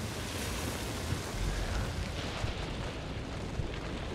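Fire roaring in the video game Hunt: Showdown, a steady, dense, loud rushing crackle that fills the whole clip without pause.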